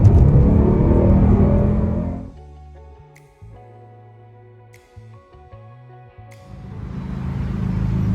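A dark grey Mercedes-AMG GT63 four-door sedan with a 4-litre V8 roars hard, then drops to a lumpy idle with short blips, then surges back to a loud full-throttle rumble.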